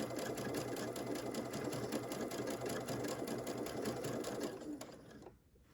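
A sewing machine runs a steady, continuous stitching buzz while sewing a blind hem with a blind hem foot, close and loud, then stops abruptly near the end, leaving near silence.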